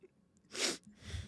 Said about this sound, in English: going to have to sneeze